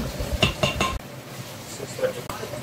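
Melted butter and egg batter being mixed with utensils in a bowl: a quick run of three bright clinks near the start, then softer stirring and faint scraping that carries on at a lower level.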